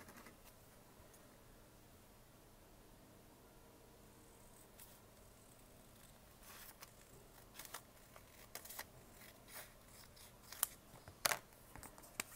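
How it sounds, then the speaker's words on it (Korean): Scissors snip through a sheet of folded paper along a ruled diagonal line, a series of faint, quiet crisp cuts that sharpen toward the end against a hushed room. "이거를 가위로 잘라줍니다"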